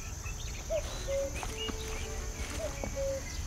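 Two repeated cuckoo-like calls, each a short two-note pattern, sound against a steady ambient forest backdrop in the adventure game The Night of the Rabbit.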